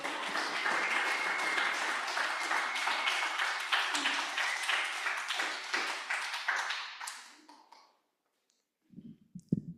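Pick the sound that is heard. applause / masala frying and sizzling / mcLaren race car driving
applause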